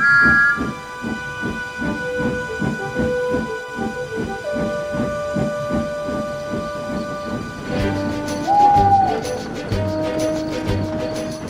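Steam locomotive whistle sounding over the hiss and rhythmic chuffing of a moving engine, with a sustained tone rising in over the last few seconds of the passage.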